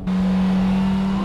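A Honda Civic Type R races on the Ebisu circuit, its engine holding a loud, steady high-revving drone close by as it climbs a hill in a low gear, with faint tire noise beneath.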